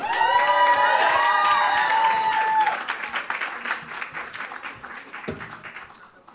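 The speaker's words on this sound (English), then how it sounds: "please keep that warm applause going for your next comedian" A comedy club crowd applauds and cheers loudly for an incoming comedian, with shouts and whoops riding over the clapping at first before it thins out into scattered claps toward the end.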